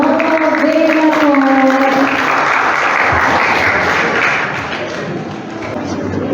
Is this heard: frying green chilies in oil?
no